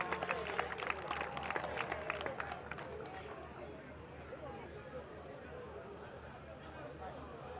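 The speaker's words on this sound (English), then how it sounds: "A round of applause for the players," Staff, media and public applaud the players at a ceremonial send-forth for a former LASTMA general manager, clapping dense and loud at first, then thinning into a murmuring crowd with hubbub.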